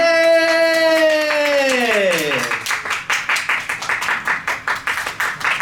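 A press-conference crowd in Bangkok claps and cheers to welcome a K-pop singer, the applause rising after a sustained tonal, sung-like sound fades; rhythmic clapping continues steadily near the microphone.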